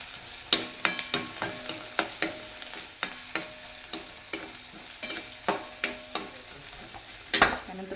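Green chili masala is roasted and stirred in a pan, with a soft sizzle underneath and regular scraping strokes of a spoon against the pan, roughly one per second, ending in a louder scrape.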